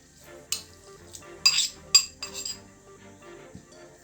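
Minced onion and pre-cooked rice stirred together in a bowl with a spoon: a few scattered light clinks and scrapes against the dish, quiet and close, without speech.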